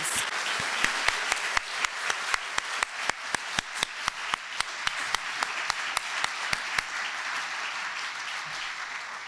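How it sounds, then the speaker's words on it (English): An audience at the 2019 Seniors Who Rock celebration applauds the four honorees in a steady, full wash of clapping, with one sharp clap repeating in a regular beat through most of it before the rhythm stops. "let's do one more joint round of applause for all four of our honorees"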